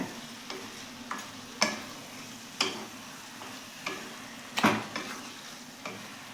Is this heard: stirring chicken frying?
yes